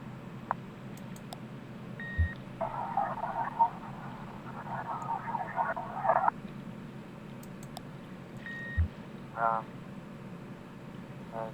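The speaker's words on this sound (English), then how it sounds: "The frogs are too loud." Frogs croak in Kentucky Route Zero: scattered, fairly faint bursts of croaking and a few short electronic beeps rise over a low, constant background hum.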